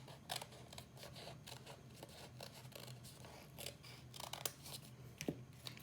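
Scissors snip through folded paper in a first-grade craft lesson, cutting a vase shape along the fold: a steady run of close, crisp snips and rustles with no talk.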